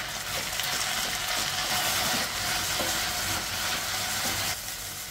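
Fresh mint leaves fry and get stirred in a pan over a medium flame, giving a steady broad sizzle with faint scraping, constant for about five seconds and easing slightly at the end.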